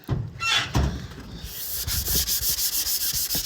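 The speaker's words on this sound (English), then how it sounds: "Sanding on the Pete." Rough scraping strokes give way to rapid, rhythmic back-and-forth sanding on an old Peterbilt truck body, loud and close, with a steady repeating pulse and no voices.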